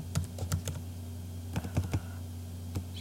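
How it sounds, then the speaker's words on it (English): A password typed on a computer keyboard: two short bursts of crisp key clicks with a pause between and a single final keystroke, close and alone over a faint electrical hum. "Here comes my password. Let me type this right."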